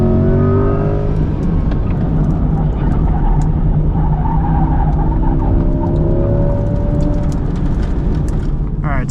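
A 2024 Chevrolet Corvette E-Ray on a race track, heard from inside the cabin: a loud, sustained engine drone with rising and falling pitch as it accelerates and shifts, and a voice talking over it.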